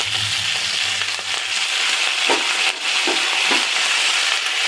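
Curry leaves hit a pan with roasted pepper and crackle into a loud, dense sizzle, with a few low scrapes of stirring. The sound is close and continuous, and nobody speaks.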